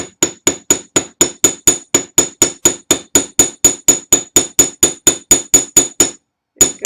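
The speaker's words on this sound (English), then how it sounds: "you'll hammer it to about half of the thickness" A hammer strikes metal being flattened to about a quarter inch, roughly two dozen sharp, ringing blows at a steady quick rhythm, loud and close, before a short pause and one final hit.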